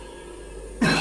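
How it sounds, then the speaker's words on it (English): One short cough bursts out at the end after a quiet, hissy lead-in, part of reconstructed ghost sounds of coughing, spluttering and heavy breathing. "coughing and spluttering and breathing heavy"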